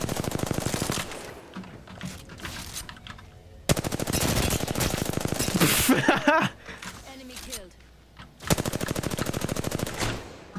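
Rapid automatic gunfire from a shooter video game comes in loud sustained bursts, separated by shorter shots and lulls, with a player's excited voice talking over parts of the action.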